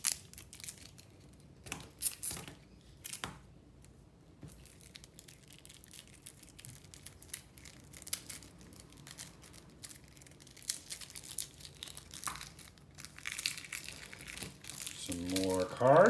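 Board game packaging being unwrapped and opened for the game Darkness: close, intermittent crinkling and tearing of plastic wrap with scattered handling noises, under occasional talk.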